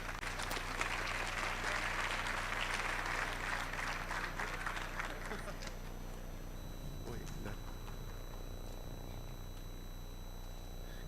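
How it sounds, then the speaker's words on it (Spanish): Audience applause in a hall welcoming a speaker to a panel discussion on media literacy, steady clapping for about five seconds that fades away, leaving quiet room tone with faint stray sounds. "Así que lo recibimos con un fuerte aplauso."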